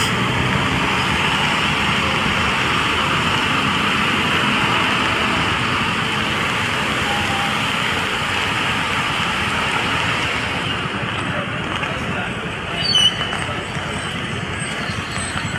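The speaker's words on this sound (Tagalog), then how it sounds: "Yun, malakas ang agos." The strong current of the flooded Marikina River rushes in a steady, loud roar of water that holds for the whole stretch and dips only slightly toward the end.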